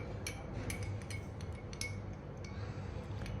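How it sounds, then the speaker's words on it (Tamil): A spoon stirs freshly added hot water in a cup, giving a run of light, quick metallic clinks over a steady low background hum, close and fairly quiet, with no talking. "ஹீட் பண்ண ஹாட் வாட்டரை சேர்த்தாச்சு நல்லா மிக்ஸ் பண்ணி விட்டுக்கலாம்"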